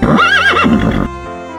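A horse gives a single loud, close whinny lasting about a second, its wavering pitch rising and falling before it breaks off into a quieter tail.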